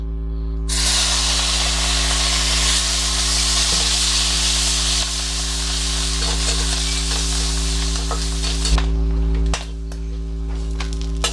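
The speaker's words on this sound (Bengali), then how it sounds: "এখন শুটকি মাছগুলো আমি দিয়ে দিব" Dried fish fries in a hot wok with a loud, continuous hissing sizzle over a low hum, easing slightly near the end.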